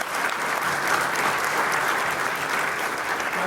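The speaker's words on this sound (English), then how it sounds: "Let's have another round of applause" Sustained applause from an audience at an art and essay contest awards ceremony, a dense steady wash of many hands clapping at even loudness throughout, with no talk.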